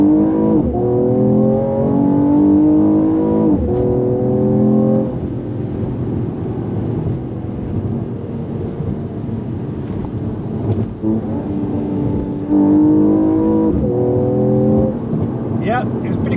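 A Mercedes-Benz E53 AMG four-door engine revs hard under acceleration, rising harmonic whine climbing through gears with brief drops at shifts, loud and close from inside the cabin, with someone talking over it.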